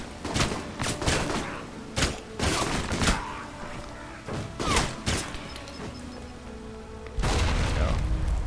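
Repeated tranquilizer gun shots in the video game Alpha Protocol, a series of sharp muffled pops at irregular intervals over ambient game noise, ending in a louder sustained burst.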